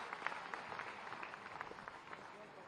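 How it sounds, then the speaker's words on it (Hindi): A crowd applauds at the inauguration of a ropeway in Barsana, a rather faint, distant patter of many clapping hands that continues evenly for a few seconds. "आप जोरदार तालियां बजाएं इन शुभ अवसर के लिए।"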